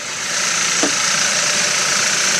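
A 2.0 engine runs at a steady idle after a cold start, a close, even, continuous hum with a faint ticking texture and no voices.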